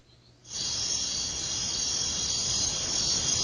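Crickets chirp in a dense, steady high trill that starts abruptly after a brief quiet moment and holds loud and continuous to the end, with no voices.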